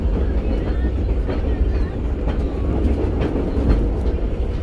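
The Arjonegoro commuter train rumbles along between Benowo and Gubeng stations in Surabaya, heard from inside a carriage as a loud, steady rolling roar with faint rhythmic clicks of the rails.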